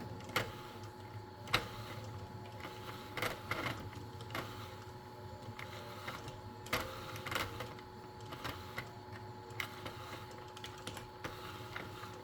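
Circular knitting machine casting on with waste yarn, giving a steady mechanical whir with a low hum, scattered clicks and soft clacks, close by and with no one talking.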